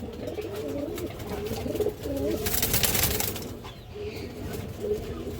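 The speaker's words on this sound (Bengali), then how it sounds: "একটা মাক্সি গিরিবাস মাদি কবুতর আছে" Giribaz pigeons cooing close by, a soft repeated throaty coo in several phrases over a quiet background.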